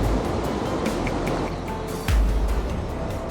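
Continuous rushing flow of Hehuan Creek, a mountain stream beside a trail in Taiwan, a dense watery wash close by with a heavier surge partway through.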